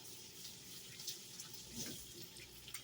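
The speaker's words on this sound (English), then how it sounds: "Rinse my hands off." Hands rinsed under a running kitchen tap while cooking breakfast, a steady close rush of water with light splashing changes as the hands move, quiet and with no talking.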